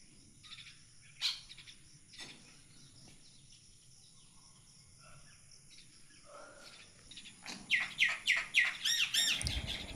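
Birds gather at a morning feeding spot, giving scattered chirps and squawks over a soft insect-like background, then a quick burst of sharp, close calls toward the end.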